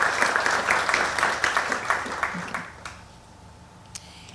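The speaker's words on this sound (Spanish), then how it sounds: "Les pido un aplauso para María del Pilar Salazar, por favor." Audience applause at a talk on ecosystem services and urban quality of life, a dense burst of clapping for about three seconds that fades out, leaving quiet room tone with one faint clap near the end.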